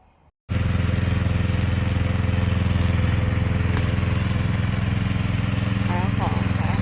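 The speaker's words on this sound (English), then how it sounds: "This is our remote controller mower." A remote-controlled brush mower engine starts up abruptly after a brief quiet moment and runs at a steady, loud, buzzing drone, close by, with constant engine harmonics throughout.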